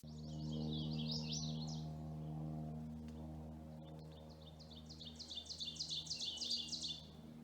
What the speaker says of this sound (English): Ovenbird,